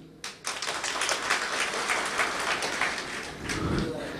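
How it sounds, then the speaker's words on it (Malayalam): An audience applauds the SNDP women's group at a union gathering in Mumbai, a dense, sustained burst of many hands clapping. The clapping starts suddenly and rises, holding steady for several seconds before easing near the end. "വനിതാ സംഘം ഒരു കയ്യടി"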